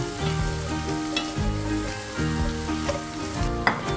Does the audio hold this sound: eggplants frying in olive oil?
yes